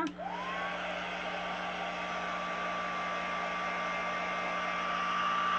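A hair dryer blows steadily close by, drying the inside of a tea-bag pouch; a continuous whooshing roar with a low motor hum starts abruptly and keeps going without a break, with no talking.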